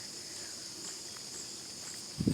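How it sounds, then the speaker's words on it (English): Crickets chirp in a wooded area on a morning walk, forming a steady, faint high-pitched drone that continues throughout, with a brief louder low rustle near the end. "crickets are making a noise"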